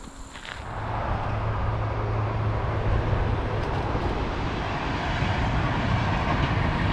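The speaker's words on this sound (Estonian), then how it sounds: "Seal sõidab rong" A train rolls steadily past outdoors, a continuous loud broadband rumble with faint rail clatter that builds within the first second and holds strong to the end, with no voices.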